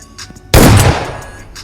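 A shotgun fires once in a video game, a single loud sharp blast with a booming low tail that fades over about a second, with no voices.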